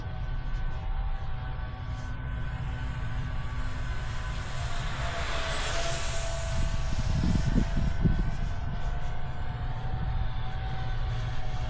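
Aircraft engine held at full throttle during a sunny-day test flight, a loud steady drone with a high whine riding on top and a slight swell as the plane passes, continuous throughout with no talk.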